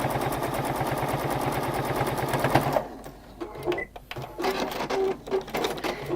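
Sewing machine stitching a bag seam, running in a fast steady rhythm for a few seconds before stopping, followed by quieter handling noises and brief stop-start bursts.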